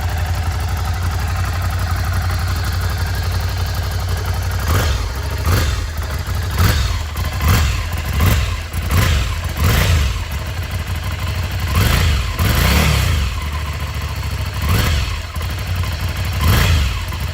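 A Ducati Monster 797 motorcycle on its stock original exhaust idles loudly up close, then is revved repeatedly in short, sharp blips that rise and fall with a throbbing, clattering engine note.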